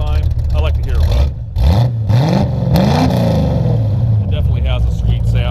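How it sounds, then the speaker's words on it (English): A 1971 Datsun 240Z engine with dual exhaust and a crossover pipe revs up loudly and settles into a steady rumbling idle, with a person talking over it at close range. "go ahead and rev it up one more time. I like to hear it run."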